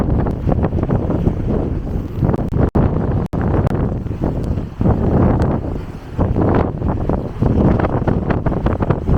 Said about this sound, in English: so windy the further you go.